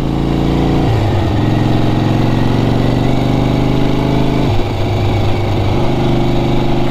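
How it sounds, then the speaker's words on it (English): An old Harley Davidson motorcycle engine, running again after sitting for 40 years, idles loudly and steadily up close with a lumpy, pulsing rhythm that briefly changes character twice. "Engine seems to be running honestly really good for sitting for 40 years"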